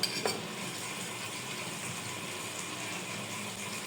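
Soya chunk curry being stirred in a wok, a steady soft scraping and simmering hiss with brief utensil clinks at the start and end.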